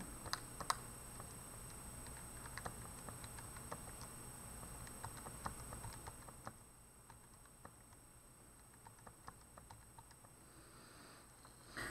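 Quiet typing on a computer keyboard, with scattered light key clicks in an irregular patter. The keys run steadily through the first half, then soften and thin out in a quieter stretch.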